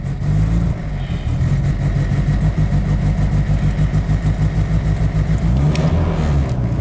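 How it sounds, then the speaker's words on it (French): A car engine held on the throttle, running loud and close with a pulsing, slightly uneven drone, as if struggling to keep from stalling, then dipping back near the end. "On va donner du gaz pour qu'il parte."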